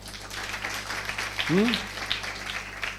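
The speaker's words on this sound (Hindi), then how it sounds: "प्रभु के लिए तालियां बजाएं" Scattered applause from a church congregation crackles across the whole moment, with a short vocal sound rising briefly in the middle.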